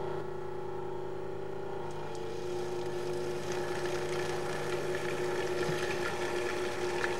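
A Cuisinart DLC 10 food processor runs with a steady motor hum and whir while oil, vinegar and other dressing ingredients are added, a continuous close drone that rises slightly toward the end, with no talking.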